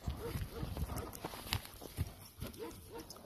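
A two-year-old horse trained for ulak, standing about 1.67 m tall and offered for sale at a horse market, moves with a steady run of close hoof clip-clops, with faint voices in the background.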